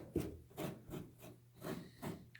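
Rhythmic scrubbing of a surface with a Scotch-Brite abrasive pad while finishing a backdrop rock landscaping piece, with about five soft rasping strokes at an even pace, quiet and close, with no talking.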